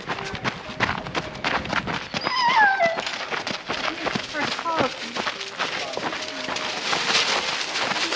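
A dog on a trail whimpers with rising, wavering howl-like whines in short bursts, close by, amid footsteps and clattering and with people talking around it.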